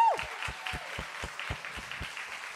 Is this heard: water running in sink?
no